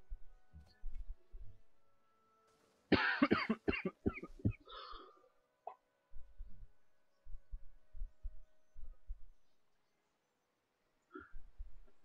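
A burst of hard, close coughs strikes around the three-second mark, followed by lower throaty throat-clearing and scattered faint murmurs, alone without speech.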